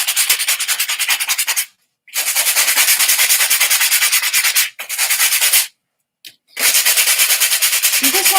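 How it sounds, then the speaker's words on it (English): Sandpaper rubs back and forth across a shiny surface to dull it, a loud close scratchy rasp in long continuous bursts broken by a few short pauses. "Get the sandpaper."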